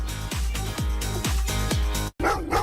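A dog in a TV advert barks five times in a steady, evenly spaced rhythm, loud and close, followed by a brief silence and a short burst of other sound.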